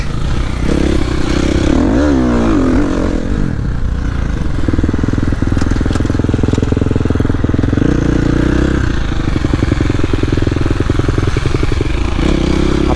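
KTM SXF 350 motocross bike engine revs loudly up close, with rising and falling throttle blips and a rattly idle between them, and no talking.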